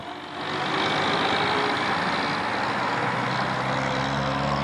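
A vintage Tilling-Stevens twin-steer six-wheel bus at a bus festival drives away with a loud, steady engine roar that swells in the first moment and then holds, close by and unbroken.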